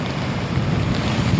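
Big ocean waves crash and roar as continuous broadband surf, with heavy wind buffeting the microphone throughout; no talking.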